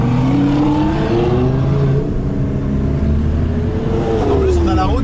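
Supercar accelerating hard on an empty mountain road, its loud engine note climbing and shifting steadily throughout, close and dominant, with a second engine rising faintly near the end.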